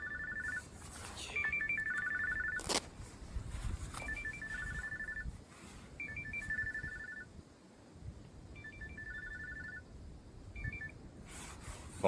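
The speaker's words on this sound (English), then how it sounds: "phone ringing." A telephone ringtone chirps in repeated short bursts, four or five rings spread over about twelve seconds. Steady rubbing and scraping noise continues underneath, with an occasional sharp tap.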